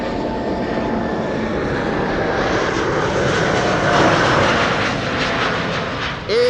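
An airliner arriving at Amsterdam Schiphol on a sunny day roars loudly and steadily, its engine noise swelling slightly as it passes close by, with a faint voice near the end.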